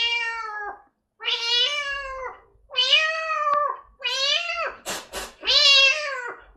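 A human voice imitates cats courting, a tomcat chasing a female, with a series of long, wavering yowls and meows, loud and close, separated by short pauses.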